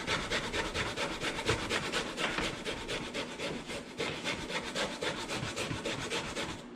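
Fresh ginger grated on a microplane for a vegan, gluten-free Thai noodle bowl, heard as a close, continuous rhythmic rasping scrape with quick regular strokes and no talking.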